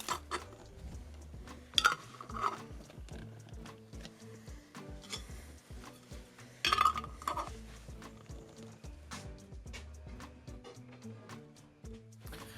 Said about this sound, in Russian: Поэтому закрываем крышки.